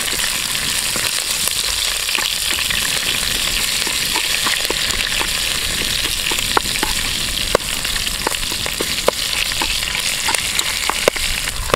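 Pickled black pepper sizzles and fries in a pan for a Kerala-style lime curry, a loud constant crackling hiss with scattered sharp pops and occasional stirring scrapes, no voices.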